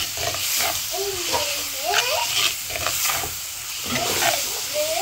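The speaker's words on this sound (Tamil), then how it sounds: "இப்போ நம்ம தக்காளியை நல்லா கிண்டிட்டு விடுவோம், தக்காளி நல்லா வதங்கட்டும்" Tomatoes for a prawn gravy soften in a hot pan with a loud, hissing sizzle and repeated scraping strokes of a spoon, while faint voices murmur in the background.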